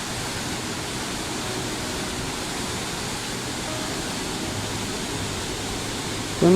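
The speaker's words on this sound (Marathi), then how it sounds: "धबधबा आहे पाण्याचा" Steady, dense roar of a waterfall on a river beside a Shiva temple near Nasrapur, Pune, a constant broadband rush that fills the whole stretch with no break.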